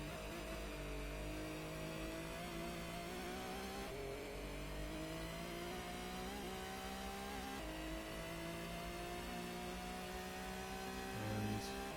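A tuned race car in the Gran Turismo video game holds a continuous high-revving engine drone with shifting pitch through gear changes, steady and loud throughout.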